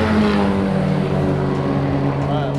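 A Honda Civic EG race car with a B18 engine idles close by on a track, a steady, loud, deep, even drone that never lets up, while voices talk briefly over it.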